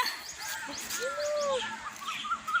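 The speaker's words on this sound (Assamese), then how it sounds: "এই বগলীবিলাক উৰি গ'ল, কি ধুনীয়া কৈছে।" Harsh, croaking egret calls ring out over a steady outdoor background, a few rising and falling cries close by with fainter ones further off.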